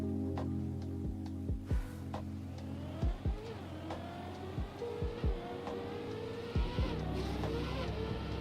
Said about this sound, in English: I'll drown out the engine sound first